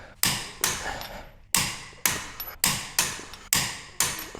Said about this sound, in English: I'm gonna torque them down to the same torque spec that the wheels go on, so it's 140 foot-pounds.